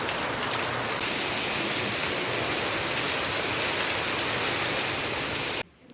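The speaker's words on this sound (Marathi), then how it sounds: "पाऊस धुमाकूळ घालतो आहे बघा आता पण आलाय जोरदार एकदम" Heavy rain pours in the Konkan in a loud, unbroken roar of drops nearby, then cuts off abruptly at the end.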